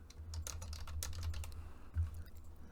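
Quick bursts of computer keyboard typing while building an interaction widget in Unreal Engine 5, close and clear, with irregular clusters of keystrokes and no talking.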